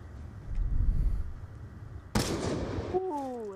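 A sniper shot from an XPR rifle in a first-person shooter trickshot match rings out as one sharp, loud crack that cuts in mid-clip after low rumbling, followed by rising electronic tones.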